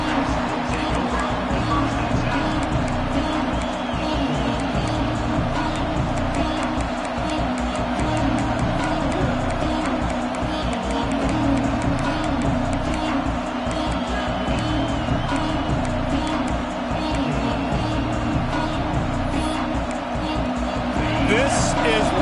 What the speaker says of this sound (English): This crowd ready to make its presence known